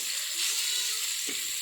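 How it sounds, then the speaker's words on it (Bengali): Chopped onion, garlic and green chili frying in oil in a pan, a steady close sizzle throughout with a faint soft stir near the end. "এখন একটা প্যানে পেঁয়াজ কুচি, রসুন, তারপরে কাঁচামরিচ, পরিমাণ মতো তেল দিয়ে এখন ভেজে নিব"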